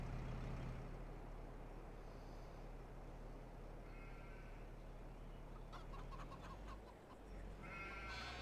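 Chickens cluck in a pen in the Farming Simulator 22 game, a few soft, scattered clucks over a steady wash of farm ambience and low engine-like rumble, fairly faint throughout.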